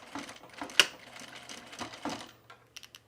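Sewing machine topstitching a visible seam on a men's cargo shorts pocket, short bursts of rapid mechanical clatter with brief pauses and a few light clicks near the end, close and fairly quiet.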